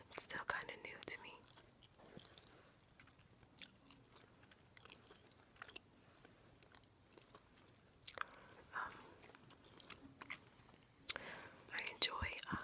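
Close, quiet gum chewing in a gum-chewing ASMR setting, with soft wet smacks and crunchy bites at irregular intervals, mixed with whispering.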